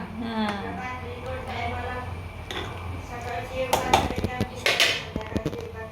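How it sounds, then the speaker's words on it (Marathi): A metal lid clanks onto a pot of cooking pulao in a home kitchen, with a few sharp clatters of cookware near the end while someone talks throughout. "अशा प्रकारे मी पुलाव टाकलेला आहे लावते झाकण"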